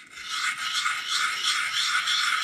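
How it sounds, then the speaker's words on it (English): Sandpaper rasps steadily against the glass face of a turkey pot call, a continuous dry scratching that stays close and fairly loud, with no talking. "he sent me a piece of sandpaper to rough the face with"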